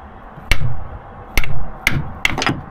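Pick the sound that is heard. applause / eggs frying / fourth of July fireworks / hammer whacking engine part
hammer whacking engine part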